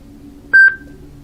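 A SoundBot SB1010 wood-finish Bluetooth alarm clock speaker gives a single short, bright electronic tone as it disconnects from a phone, clear and close against a quiet room.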